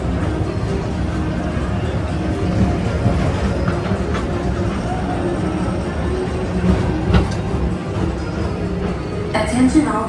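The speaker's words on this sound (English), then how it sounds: "your express train keeps on rolling through the future" Train car rolling past on a Magic Kingdom rail line, a steady close rumble with faint clatter running throughout, under an announcement-style voice.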